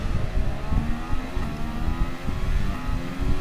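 Race car engine in Gran Turismo Sport during a Formula 1 race in Spain, droning and revving steadily at close range for the whole stretch with rising harmonic tones, no voices.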